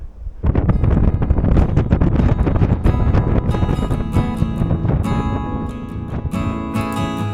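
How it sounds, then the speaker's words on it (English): Gale-force wind of 40 to 50 mph on the summit of Tryfan in Snowdonia, loudly buffeting the microphone in a constant, heavy rumble and roar with no one speaking. "by the time I got to the top, it was blowing a gale. It was 40 mile an hour, 50 mile an hour winds"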